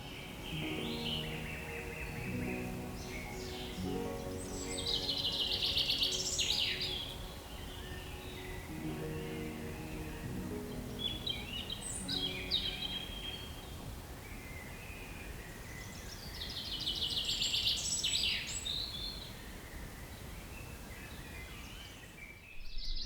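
Birds singing along a wooded stretch of the Appalachian Trail, with bright chirping phrases recurring in bursts over soft rustling and a steady low background hum, moderately distant.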